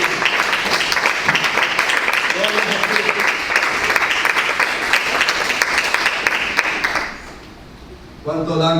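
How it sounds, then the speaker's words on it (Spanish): A church congregation applauds during a Spanish-language sermon, loud sustained clapping with crowd noise that drops away near the end before a voice returns. "Denle un aplauso al Señor."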